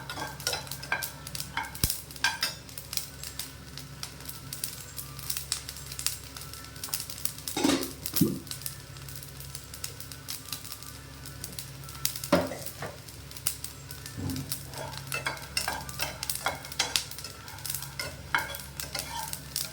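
Grated mature coconut is roasted in a pan, with a spoon scraping and stirring in a continuous rhythm over a soft sizzle, close and with no voices.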